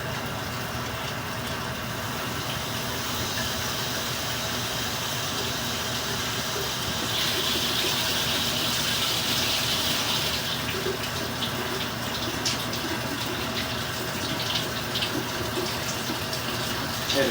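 Cold water runs from a household tap in a steady, continuous rush, with a brief brighter splashing stretch midway, and no talking over it.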